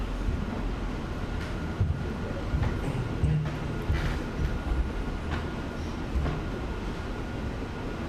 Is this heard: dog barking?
no